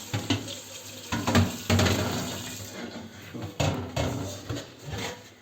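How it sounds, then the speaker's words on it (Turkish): Running tap water rinses a burnt cooking pot in a kitchen sink, a steady close splashing stream with a few louder gushes and clatters as the pot shifts under the flow. "Şöyle temizledikten sonra şunu bir durulayalım."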